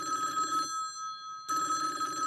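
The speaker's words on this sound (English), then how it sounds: "It's the fresh phone ringing." A telephone bell rings in steady tones, then falls silent briefly before ringing again, clear and alone with no voices.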